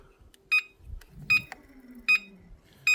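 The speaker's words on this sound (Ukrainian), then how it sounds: "Що воно пищить?" A folded electric bicycle gives out four short, high electronic beeps at regular intervals, close and clear over quiet background rustling and faint handling sounds.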